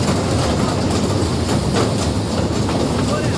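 Inside the Matheran toy train on the hill line, a loud, constant rumble of wheels and carriage noise fills the cabin with a steady clatter.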